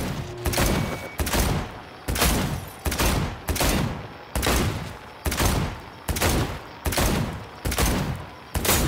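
Bursts of gunfire in the video game Cyberpunk 2077, about eight loud, evenly spaced volleys roughly one per second, each a sharp crack with a rumbling tail, with no talk over them.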